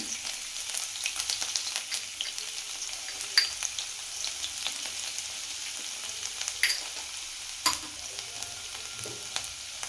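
Chopped garlic and ginger sizzle quietly in hot oil, a steady low crackle broken by occasional sharper pops and light stirring scrapes, with no voices.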